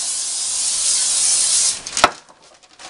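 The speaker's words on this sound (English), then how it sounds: "take some Pam, spray it on your parchment paper like that." A close, sustained aerosol hiss of cooking spray onto parchment paper lasts under two seconds, then stops with a short tap and faint rustle.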